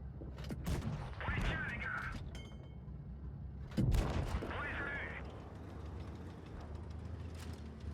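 Tank cannons fire in the World of Tanks Blitz video game: two heavy booming shots a few seconds apart, each followed by a metallic reload whine, over a constant engine rumble.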